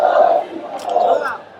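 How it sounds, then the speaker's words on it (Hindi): A large night-time protest crowd at Jantar Mantar chants Jai Bhim slogans, a dense roar of many voices swelling in rhythmic shouted waves, close and loud throughout. "तो जय भीम के नारे लग रहे हैं।"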